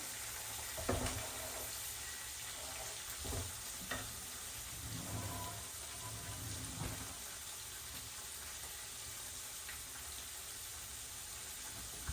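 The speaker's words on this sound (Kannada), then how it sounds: "ಹಾಕ್ಕೊಂಡು ಇದನ್ನು ನೀಟಾಗಿ ಮಿಕ್ಸ್ ಮಾಡ್ಕೊತಿದ್ದೀನಿ" Four medium onions being stirred in a hot pan for chitranna gojju: a steady sizzle and hiss continues throughout, with occasional soft scraping stirs and no voices.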